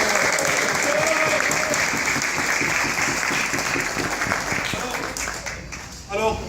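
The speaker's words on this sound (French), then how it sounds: "il faut vraiment, les gars, que vous vous applaudissiez tous" Audience at a protest debriefing meeting applauding themselves, sustained dense clapping from a crowd nearby, fading slightly toward the end as a voice comes in.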